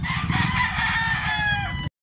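A white leg rooster on a farm crows once, loud and close, in a single sustained call.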